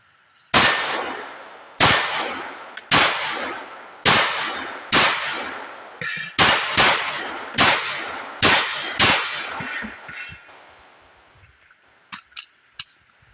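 Ten loud, sharp reports from a Glock 30 Gen 5 .45 ACP pistol ring out at a range in an even string about a second apart, each with a short echoing tail, followed by faint metallic clicks.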